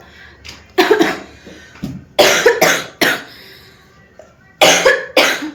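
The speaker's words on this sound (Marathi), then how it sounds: "मला खोकला बी लई वाढला" Repeated harsh coughing in short bursts, close to the microphone, with quiet pauses between the fits.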